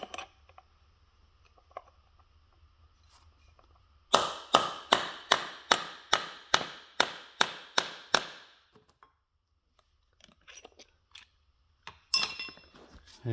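Hammer blows set a rivet in the clutch fork assembly of a 1939 John Deere A tractor, about a dozen sharp, ringing metallic strikes in a steady rhythm, close and loud, with softer taps and clinks before and after.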